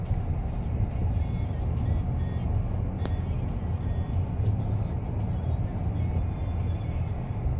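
A 2019 Chevrolet Silverado pickup truck on the road, with a steady low engine and road rumble heard from inside the cab across the whole stretch, holding a constant level.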